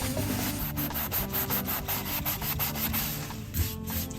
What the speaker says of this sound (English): give this a little bit of a scrub to start things off